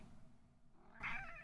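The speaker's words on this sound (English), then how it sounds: "Why don't you meow into the mic, though?" A cat meows close to a microphone, one short loud bright call after a stretch of quieter rubbing and low room noise, with no one talking over it.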